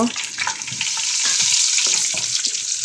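Nuts, raisins, bay leaf, cinnamon and cardamom crackle and sizzle in hot oil for biryani, a steady close frying hiss with light stirring scrapes throughout.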